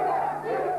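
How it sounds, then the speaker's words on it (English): A rioting crowd shouting outside army barracks, a massed roar of many voices blending into one sustained, heavy wall of yelling, heard at a moderate distance for a brief moment. "Police desperately outnumbered as the crowd ran wild"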